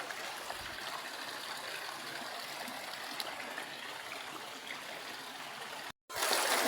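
Water in a small river flows steadily through a backyard garden, a continuous close rushing and trickling that cuts out abruptly near the end before resuming.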